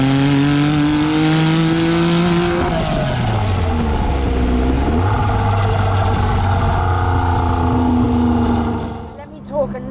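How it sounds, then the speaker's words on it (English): Jaguar XJ220 twin-turbo engine accelerating hard, its loud rising roar sweeping up through the gears with a dip at a gear change, close and sustained for several seconds before cutting out near the end. "it's so bloody quick when those turbos kick in."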